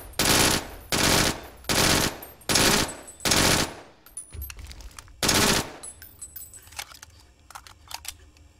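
In the video game Brink, an FMR rifle fires five loud, evenly spaced bursts in quick succession, then one more burst after a pause, with small mechanical clicks and handling noises between them.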